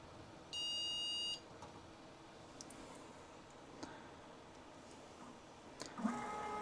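A Prusa Core One 3D printer gives a single clean electronic beep, a steady tone lasting about a second, then quiet mechanical ticks and a few faint short chirps follow in a calm room.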